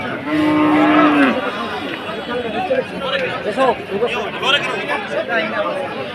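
Cattle at a hot, crowded cattle market, one close animal giving a long loud moo at the start, followed by the steady chatter of a crowd and further lowing in the background.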